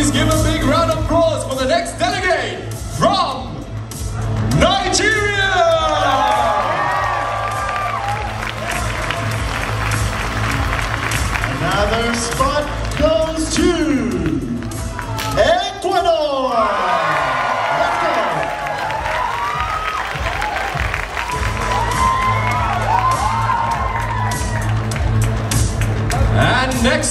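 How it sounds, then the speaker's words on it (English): A large crowd claps, cheers and whoops at the Mister Global 2023 pageant final, loud and continuous, with an announcer's voice and music sweeping through the noise. "please give a big round of applause"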